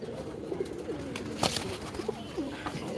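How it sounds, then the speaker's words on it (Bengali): A pair of pigeons, one sick and weak, coo softly at close range, their low rolling calls repeating over a steady background hum. "কবুতরটা কিন্তু অনেক সুন্দর"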